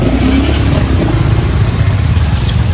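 Vehicles crawl through a traffic jam on a crowded shortcut road, making a dense, loud, continuous rumble of engines and motorbikes with clattering traffic noise all around.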